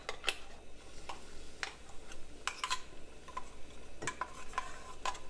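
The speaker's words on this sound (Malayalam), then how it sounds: "അപ്പോൾ അതിലേക്ക് നമുക്ക് ഈ അരപ്പ് ഒഴിച്ചു കൊടുക്കാം." Ground coconut paste goes into a simmering plantain buttermilk curry, heard as faint clinks and taps of a spoon against the pot over a low, steady background rumble, with no speech.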